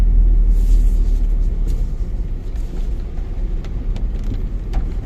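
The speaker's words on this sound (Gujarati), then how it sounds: "અને એ વધારે વરસાદ આવે છે." Heavy rain drums on a car body from inside the cabin, a dense, loud and continuous wash with low rumble underneath and occasional sharper patters.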